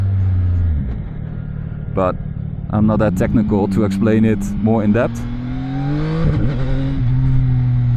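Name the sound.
CFMOTO 675NK motorcycle engine intake sound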